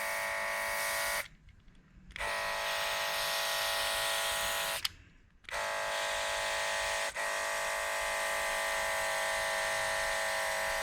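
A paint sprayer pump running while spraying lacquer thinner during restoration work on a 1966 Ford Galaxie 500 convertible, a steady loud electric buzz that cuts out twice briefly and resumes, with no talking.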